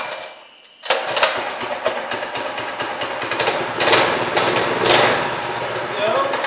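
A Mega Moto 212 minibike engine catches after a short quiet stretch and settles into a steady, close idle that rises and dips slightly, with a rough mechanical clatter throughout.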